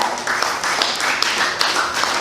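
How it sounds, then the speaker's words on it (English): An audience at a live comedy show applauds with a dense, steady wash of clapping that continues throughout at a constant, fairly loud level. "I want to give you guys yourselves a round of applause, for being a fucking great audience."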